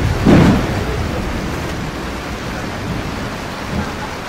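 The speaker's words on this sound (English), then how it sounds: "It just rained so hard that for the first time, the storage room started to flood." Heavy tropical rain pours down at a building site in Bali as a dense, steady roar of water, with a low rumble near the start; no one speaks.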